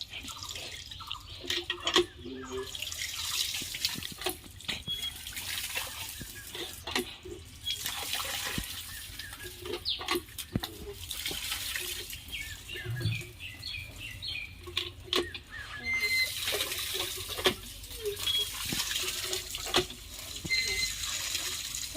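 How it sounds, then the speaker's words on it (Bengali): Tap water runs and splashes steadily while cut pieces of a 3–4 kg catla fish are washed, with close drips and splatters throughout and no talking. "এবার দেখো ধুতে এসেছে এই যে ধুচ্ছে"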